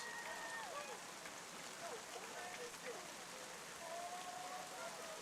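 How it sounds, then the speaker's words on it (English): Torrential rain pours down at a high school baseball game, a dense, continuous hiss of heavy drops with faint distant voices and cheers mixed underneath. "it's torrential downpour here at L House"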